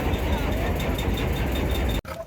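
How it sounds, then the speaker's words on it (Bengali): Trawler boat engines drone steadily on a night river journey through the Sundarbans toward Dublar Char, a loud, even rumble that breaks off abruptly near the end. "মাঝরাতিতে শত শত ট্রলার একসাথে যাত্রা করে"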